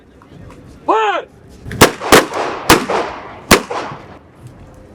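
An honor guard fires a rifle volley outdoors, four sharp loud cracks spaced under a second apart, each with a rolling echo. A brief shouted command comes just before the first shot.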